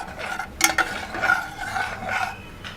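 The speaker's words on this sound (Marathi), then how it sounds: "यामध्ये केशर घालायचं दुधामध्ये भिजवून घेतलेलं ऑप्शनल आहे नसेल तर नाही घातलं तरी चालेल आणि पुन्हा थोडं मिक्स करून घ्यायचं" Coconut rice mixture with milk-soaked saffron being stirred in a pot, a soft, steady scraping and swishing with a brief sharper scrape near the start.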